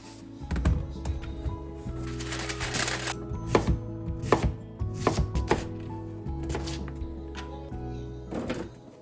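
Unpeeled potatoes being chopped on a cutting board, a series of firm knife thunks in an uneven rhythm, close and clear, with short pauses between cuts.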